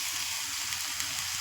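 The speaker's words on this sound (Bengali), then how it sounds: "সুজিটা ঢেলে দিলাম আমি" Semolina poured into a hot pan, giving a brief steady sizzling hiss that stays even throughout.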